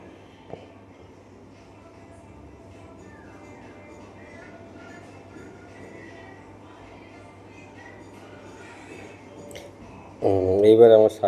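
Inside Sealdah metro station in Kolkata, a steady low indoor hum and murmur fill the space, ending in a sudden loud, harsh burst of noise close by.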